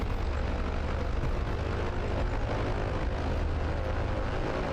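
An aircraft taxiing in Microsoft Flight Simulator 2020 gives a steady, loud engine drone with a rumbling low end, unbroken from start to finish, with no talk over it.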